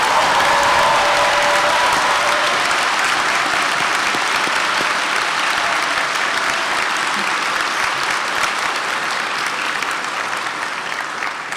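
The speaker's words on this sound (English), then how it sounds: "Now you may clap." A large audience at a Saint Michael's College commencement ceremony breaks into loud, sustained applause, dense and continuous throughout and fading only slightly toward the end.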